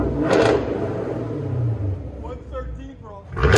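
A 2021 Chevy Camaro with the 6.2L LT1 V8 and straight-pipe exhaust rumbles and revs nearby, a loud continuous low growl with voices talking over it at the start and end.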